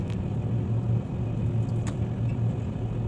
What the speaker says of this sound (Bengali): আসলে গাড়ির একটা সাউন্ড, গাড়ি সাউন্ড।